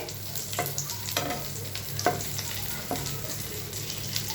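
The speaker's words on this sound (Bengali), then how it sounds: "আলুর চপটা ভাজা হতে হতে" Potato chops fry quietly in hot oil with a soft continuous sizzle, broken by a few sharp utensil taps and stirring scrapes spaced about a second apart.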